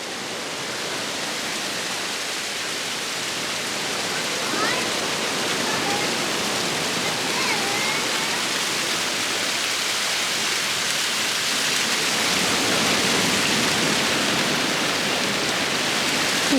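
A small waterfall splashes onto the beach below Tintagel Castle in Cornwall. Up close it makes a steady, dense hiss of falling water that swells slightly louder toward the end, and no voices are heard.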